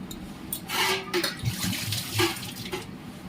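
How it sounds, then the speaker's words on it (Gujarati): Water splashes and gushes in short pours into a pressure cooker holding potatoes, several uneven bursts with gurgling in between, close and fairly loud, no talking. "આપણે એક કુકર લઈ લઈશું. એમાં આપણે 2 થી 3 લોટા ભરીને પાણી એડ કરશું."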